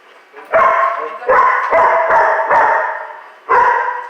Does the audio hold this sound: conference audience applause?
no